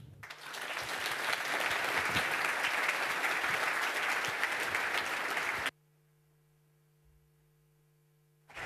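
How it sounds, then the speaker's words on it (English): A large hacker-conference audience gives a big round of applause welcoming two speakers, loud dense clapping for over five seconds that cuts off abruptly to near silence with a faint electrical hum. "please welcome Florian and Nik Niklaus with a big round of applause"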